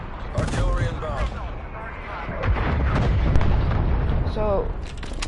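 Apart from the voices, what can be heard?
artillery strikes exploding in Call of Duty video game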